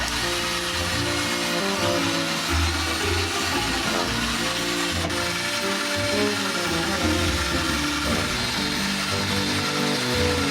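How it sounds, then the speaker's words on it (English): A power drill fitted with a scrub brush works over a glue-stained surface, giving a continuous loud whirring, ratcheting grind that holds steady throughout with no speech. "a brush on a drill is genius."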